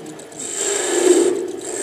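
Skew chisel cutting a wooden whistle on a spinning lathe, a soft continuous rasping scrape that swells slightly midway, close and fairly quiet with no voices.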